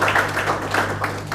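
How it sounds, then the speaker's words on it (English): Brief clapping from an audience at a workshop certification ceremony, scattered claps over a steady low hum, fairly close and moderately loud. "Yes, please give them a round of applause."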